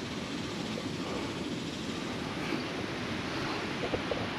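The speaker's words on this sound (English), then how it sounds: "the river seems to be running pretty strong" The Guadalupe River at Lake Wood Recreation Area runs swift and strong after heavy rain, giving a steady broadband rush of moving water with a faint wind hiss, continuous and even throughout with no voices.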